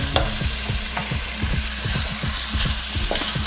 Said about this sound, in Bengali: মশলার সাথে এবার আমি মাটনটা খুব ভালো করে কষিয়ে নেব।